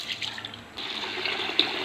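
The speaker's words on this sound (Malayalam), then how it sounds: "അപ്പം നല്ലോണം കഴുകിയിട്ട് കുറച്ച് വെള്ളം ഒഴിച്ചിട്ട്" Water runs and splashes over raw rice and urad dal being washed for dosa batter, a short, moderately quiet pouring and sloshing at close range.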